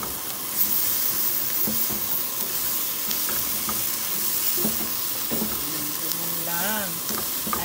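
Ampalaya and okra fry in a pan with a steady close sizzle and crackle, broken by brief stirring clinks; a voice hums or speaks faintly near the end.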